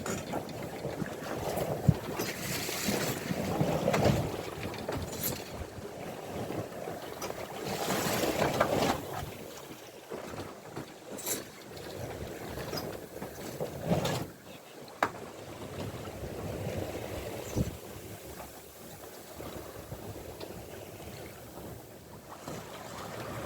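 A sailboat moving through swells in the wind off Rauma, with broadband rushing wind and water noise, gusts buffeting the microphone, and intermittent faint speech underneath.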